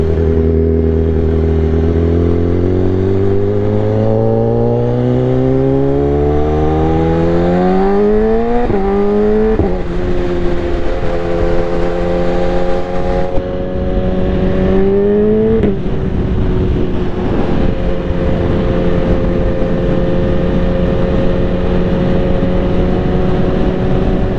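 A BMW S1000RR superbike engine heard from inside the rider's helmet on a UK road, loud and continuous, its pitch climbing through repeated gear rises before settling into a steady drone with wind rush.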